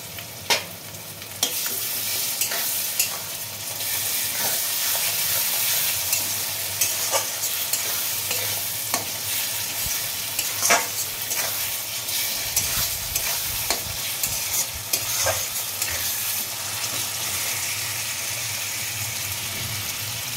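Stone-ground ginger and garlic paste fries in a pan for a thin meat curry, a loud continuous sizzle with frequent scraping and clacking from the spatula as it is stirred, no voices.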